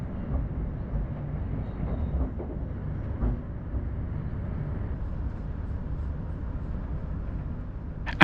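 Train running from London Bridge toward East Croydon through Forest Hill and Norwood Junction, a steady low rumble of wheels and carriage noise heard from inside, even and continuous throughout.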